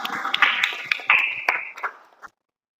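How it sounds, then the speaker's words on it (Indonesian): Students clap in a classroom after a group presentation. A few close, sharp claps ring out in uneven bursts, then they fade and stop abruptly into silence. "Oke, beri tepuk tangan."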